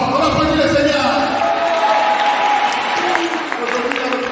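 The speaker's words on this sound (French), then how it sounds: "On applaudit le Seigneur." A church congregation applauds at a combined Sunday service, a steady dense wash of clapping filling the whole stretch, with voices and crowd noise mixed underneath.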